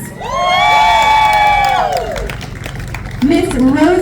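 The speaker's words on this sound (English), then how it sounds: "I need you all to yell and scream as loud as you possibly can" A crowd at an outdoor collector car show yells, cheers and screams loudly, with high-pitched whoops rising and falling, a dense close roar that dips slightly and then surges again.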